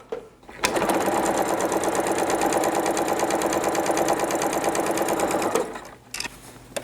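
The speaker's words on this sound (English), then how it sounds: "I'm back using my HP foot and plate again, and I'm going to stitch on that line." A sewing machine runs steadily for about five seconds, stitching a bias join between fabric strips with an HP foot and plate, starting and stopping abruptly with quiet handling before and after.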